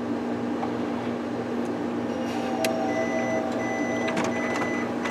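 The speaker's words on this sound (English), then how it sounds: "Yeah, it's making a lot of beeping sound." A Canon Pixma 1200/2200-series inkjet printer just switched on gives several short electronic beeps and tones over a steady mechanical hum and background drone.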